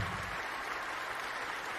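A short burst of applause rings out, a dense, steady clatter of clapping at moderate loudness that fills the whole moment without any voices.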